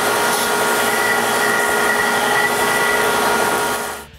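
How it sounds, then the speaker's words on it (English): A power sander smooths router bit marks off wood with a loud, continuous high whine that holds steady, then winds down and cuts off at the end. "Again, I remove the router bit marks by sanding them."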